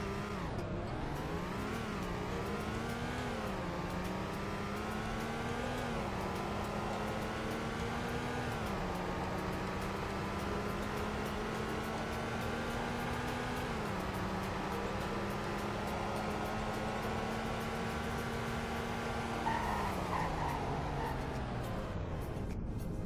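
Simulated car engine in the Roblox game Greenville revving up and bouncing off a rev limiter around 5,000 RPM, a steady buzzing engine tone holding high with repeated pitch dips and climbs, loud and continuous without talk.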